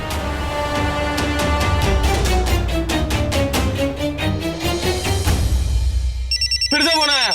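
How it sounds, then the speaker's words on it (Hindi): A mobile phone rings through a loud dramatic TV-serial music score, its pulsing tone buried in the swelling music before a rising electronic ringtone cuts in clearly near the end. "फिर से फोन आया, उठाओ।"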